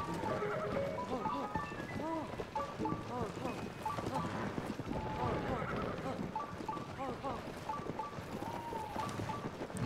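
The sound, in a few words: horse in video game Zelda Tears of the Kingdom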